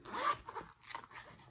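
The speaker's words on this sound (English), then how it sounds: "Did my zipper just break on camera?" Zipper on a Gillio A6 Compagna planner pulled in a few quick rasping strokes, close and fairly quiet, with no talking.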